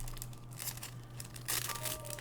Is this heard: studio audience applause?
no